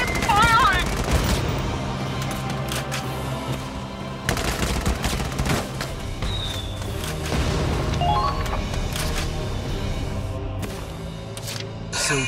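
Battlefield gunfire from the video game Valkyria Chronicles 4: rapid rifle and machine-gun bursts crackle continuously, with occasional louder blasts and brief shouted voices in the mix.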